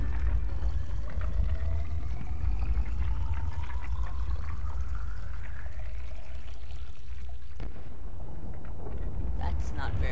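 Water rushes and pours into an underwater base in Subnautica as it floods, a loud continuous gushing with rising tonal creaks over a deep rumble.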